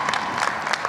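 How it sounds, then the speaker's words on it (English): Audience at a university spring commencement ceremony applauding, a loud, dense burst of many hands clapping together in a large venue, with no talk over it. "give them a round of applause."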